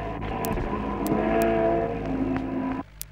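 Late-1950s racing cars, a Ferrari among them, on the Charade mountain circuit in 1958, engines droning loudly and steadily before cutting off abruptly near the end.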